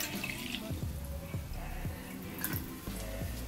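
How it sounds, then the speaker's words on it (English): Water pours steadily into a 600 ml Fuelshaker Pro plastic shaker bottle, a close, continuous splashing stream with a few light knocks. "Pour that all in there."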